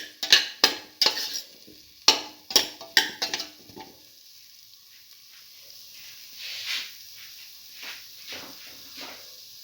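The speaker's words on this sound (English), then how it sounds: "Mix the potato pieces thoroughly" Potato pieces are stirred with a spoon through a cinnamon and salt mixture in a pan: a run of sharp, close scraping strokes in quick succession, then softer, sparser shuffling as the stirring slows.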